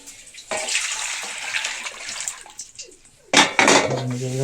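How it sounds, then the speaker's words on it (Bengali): Water poured from a single-door refrigerator's drip tray into a container: a steady splashing pour, then a louder clatter of the tray and vessel near the end, with no talk. "ওয়াটার ট্রের মধ্যে কিছুটা জল আছে, জলটা একটা পাত্রের মধ্যে ঢেলে নিচ্ছি।"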